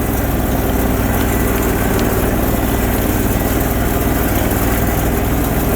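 A Bolens 1600H garden tractor with a 20HP Briggs engine idles in snow, a loud, steady, close mechanical drone with a low rumbling pulse that holds even and unrevved throughout.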